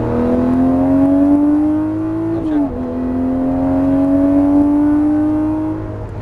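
A Lamborghini Murciélago on a Las Vegas racing track accelerates at full throttle, its loud engine note climbing steadily, dipping briefly at a shift, then rising again close by.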